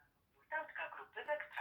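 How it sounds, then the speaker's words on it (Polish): A tonal ringing or connecting beep pattern from a myPhone Watch Adventure smartwatch speaker at maximum volume, starting after a half-second pause and repeating in bursts, moderately loud and close. "klikamy słuchawkę, no i następuje nawiązanie połączenia"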